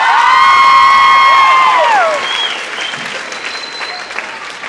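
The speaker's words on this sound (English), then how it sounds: "Give her a round of applause." Loud audience applause and cheering fill a convention panel room. A sustained whistle-like tone sounds over the clapping for the first two seconds and then falls away, leaving steady clapping and scattered whoops.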